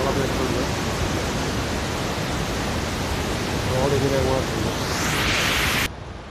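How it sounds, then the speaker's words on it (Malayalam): Water swirling in a whirlpool below a small dam at Hønefoss, Norway, a loud, steady broadband rush of turbulent flow that continues unbroken until it stops abruptly near the end. "വെള്ളം കറക്കെ അടിക്കുന്ന ചുഴി"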